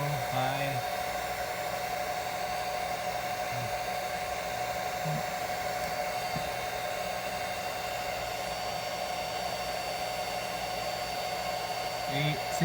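A hairdryer powered through a 1200 watt PowerJack modified sine wave inverter runs with a continuous whooshing hum and a steady electrical whine, while someone talks quietly over it.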